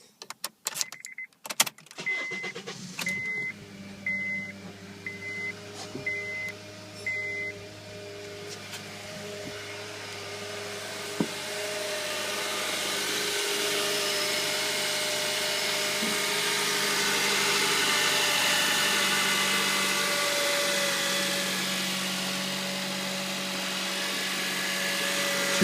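A 2009 Honda Accord engine starts up and settles into a steady, smooth idle heard close up in the engine bay, with a few clicks and chirps at first before a constant hum with a faint whine.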